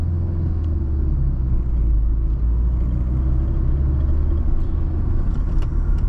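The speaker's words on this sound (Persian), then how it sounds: "ماشین نفس داره و سرحال موتورش ماشاءالله" A 1994 Daewoo Espero engine hums with a steady low rumble from inside the cabin during a test drive, holding an even, moderate drone without sharp revs.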